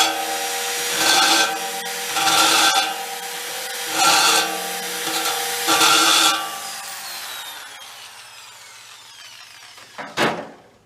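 A hand file rasps across new metal to chamfer an edge during repair of a 1962 Volkswagen split-window bus. Four rhythmic, close scraping strokes are followed by a ringing metallic decay and a final clank.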